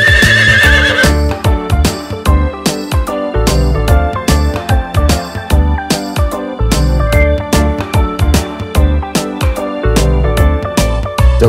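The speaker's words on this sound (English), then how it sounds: "The horse in the stable goes nay, nay, nay." A horse whinnies amid a bouncy Halloween cartoon children's song, the neighs mixed with a steady drum beat and backing music, loud and upfront.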